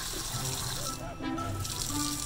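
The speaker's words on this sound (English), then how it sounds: "This is her first experience with a water faucet." A water faucet runs steadily in a steady wash of splashing flow while a baby toucan encounters it, with faint chirps and a person talking softly over the stream.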